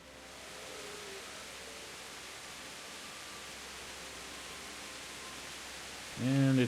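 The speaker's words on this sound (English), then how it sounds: "And it's raining." Steady broadband hiss of rain in a video game with HD textures and sounds, continuous and even throughout, with a brief louder voice-like burst at the end.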